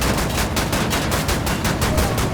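Enemy gunfire in a shooter video game, a continuous loud rattle of rapid shots with a steady pulsing rhythm, close and filling the whole moment.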